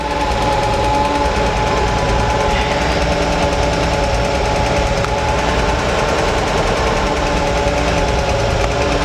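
A 1962 Chevrolet Impala engine running loud and steady while the car is driven, a dense continuous rumble and clatter filling the whole stretch without any voices.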